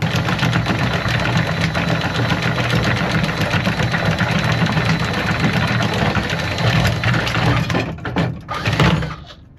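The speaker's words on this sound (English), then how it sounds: "we got the engines warming up, getting ready to take off" Engines on a center console boat idle as they warm up before departure in Miami, a loud, steady low rumble with a knocking texture that drops away near the end.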